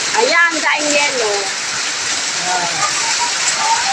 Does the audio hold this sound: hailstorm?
yes